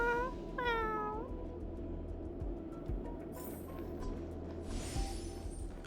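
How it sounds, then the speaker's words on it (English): Small flan cats in Honkai: Star Rail meow several times in a row, bright rising-and-falling mews standing out over a low, steady game music and ambience bed. "There's more of these adorable little flan cats."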